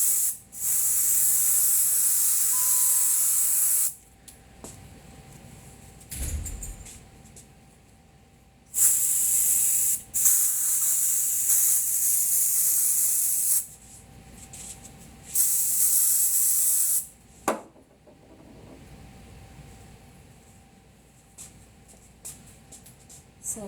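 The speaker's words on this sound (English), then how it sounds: "contact adhesive only sticks to itself, so you have to spray it to both sides of what you're sticking." Contact adhesive sprayed from an aerosol can in a foam-working setup, heard as several loud hissing bursts of a few seconds each, separated by short pauses, with no talking.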